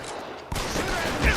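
Gunfire in LA Noire rings out during a shootout, a sudden loud burst of shots cutting in halfway through and continuing densely, with a heavier blast near the end.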